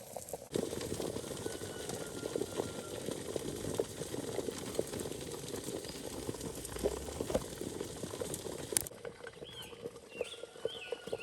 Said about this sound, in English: Eggs boiling.